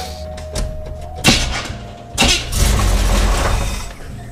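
A Chevy C10 engine is bumped briefly after a power steering pump replacement. A couple of short cranking bursts are followed by a louder, rougher run that holds for a couple of seconds, close by.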